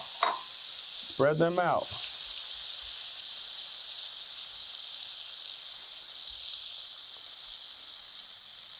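Shrimp for shrimp and grits hit a hot frying pan with a steady, bright sizzle that runs the whole time, broken early by a brief spoken remark and a few faint clinks.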